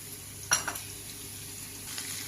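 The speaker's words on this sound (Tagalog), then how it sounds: "Mix lang natin until mag-golden brown" Onions fry in a pan for a scrambled egg dish with a low, continuous sizzle. A spatula scrapes and taps against the pan in a couple of quick strokes, and a faint stir follows later.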